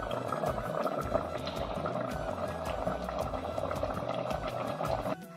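Goat meat curry gravy simmers and bubbles in a pot after pressure cooking, a close, steady burble of popping bubbles with a busy, rhythmic churn that fades slightly at the end.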